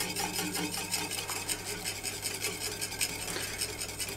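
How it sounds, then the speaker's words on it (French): A sugar and egg mixture is whisked over heat as it thickens, quick rhythmic whisk strokes scraping against the pan, fairly soft, close and continuous, with no speech. "il ne faut pas arrêter de fouetter parce que ça s'épaissit vite."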